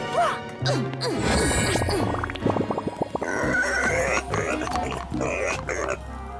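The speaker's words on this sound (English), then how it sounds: "Is that a pig?" Cartoon pig oinking in an animated kindergarten show, a run of short squealing grunts over busy music and sound effects, loud and close throughout.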